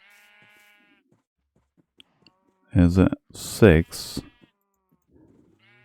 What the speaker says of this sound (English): Let's see how many sheep are in here right now.